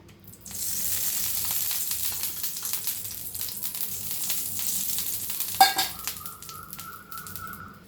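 A thin rolled chapati cooks on a hot, oiled tawa, starting with a close, steady hiss of frying that fades. A sharp tap is followed by a thin tone near the end.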